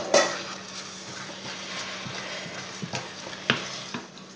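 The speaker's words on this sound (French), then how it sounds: "on remue bien pour que le sel, le poivre et les herbes soient bien mélangés" Spoon stirring a salmon and spinach pie filling seasoned with salt, pepper and herbs, with soft scraping and a few sharper clinks against the bowl, close and fairly quiet, no talking.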